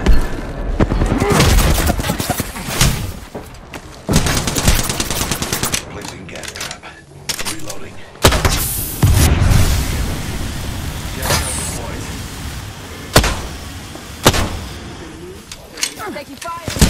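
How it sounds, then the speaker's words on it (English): Gunfire from Apex Legends rattles in repeated loud automatic bursts with sharp single cracks and short pauses between volleys, with voices speaking among the shots. "Taking fire. Getting shot at."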